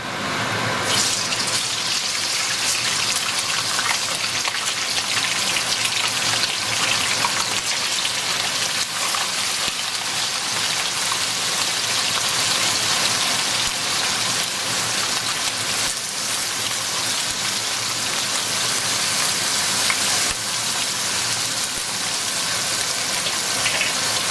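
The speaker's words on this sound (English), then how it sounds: "I am now gonna turn on my cooker hood, so I hope you can hear me." A kitchen cooker hood extractor fan runs over hot oil while ackee and saltfish cook, giving a steady, loud broadband rush with a faint crackle throughout and no voices.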